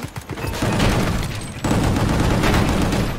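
Sustained gunfire and booming blasts from the GunGrave GORE video game, a dense loud fusillade that drops briefly mid-way and then resumes at full intensity.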